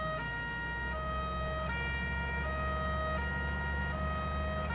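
A low-pitched siren wails steadily from a police Mercedes in Farming Simulator 19, during a Carabinieri escort. The tone rises and falls in regular cycles of about a second and a half, loud and continuous over a rumbling engine.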